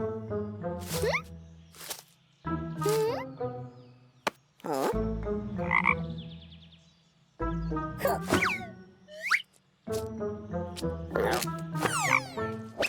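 A cartoonish frog croaks repeatedly in bursts, with springy, exaggerated croaks and boings separated by brief pauses.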